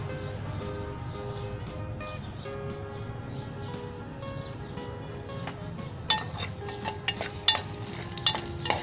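Garlic sizzles softly in a pan with oil and bay leaf for egg adobo, a faint steady frying hiss under a background tone, then spatters of crackling and clinking pops toward the end.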